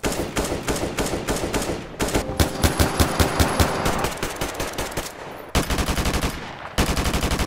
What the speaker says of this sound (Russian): Для начала я решил сравнить звуки калаша в разных играх.